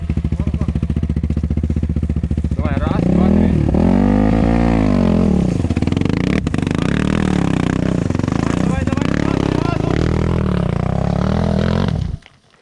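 Motorcycle in the Carpathians pulling away in first gear at full throttle, its engine note climbing in a loud, sustained rev that holds for about nine seconds before cutting off abruptly, with an idle beforehand.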